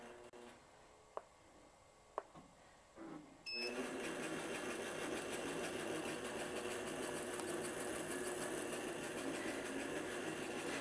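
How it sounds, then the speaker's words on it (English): A longarm quilting machine sews a blanket stitch pattern around appliqué on a quilt at a low speed setting. After a few light clicks it starts up and hums with a steady, even mechanical whir that carries on without a break. "Now I want to select the blanket stitch pattern and continue and sew quilt."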